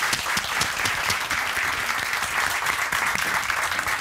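An audience claps steadily and densely at a Dutch baking talent show, a dry, even patter of many hands with no voices standing out.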